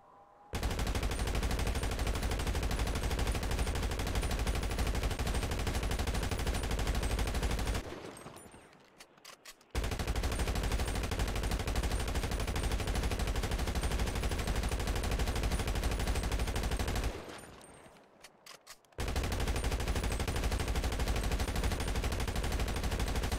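Weapons firing tracer rounds in GTA Online, loud sustained automatic gunfire in three long bursts separated by two short pauses, with no talk.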